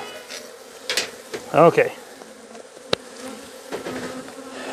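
Honey bees buzz around an open beehive during a varroa mite check, a soft continuous drone with a few knocks and clicks from handling the hive. A voice speaks briefly.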